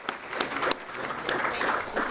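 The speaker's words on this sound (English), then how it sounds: "Please give them a round of applause." A luncheon crowd claps in a brief burst of uneven, overlapping applause, loud and close, with faint voices mixed in.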